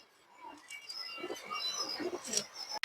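A female Makra Muslim pigeon coos softly in a brief, low, murmuring call, close by and fairly faint.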